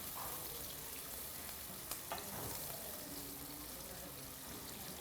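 Onions fry in a pan with a soft, even sizzle that runs throughout, broken by a brief metallic clink partway through.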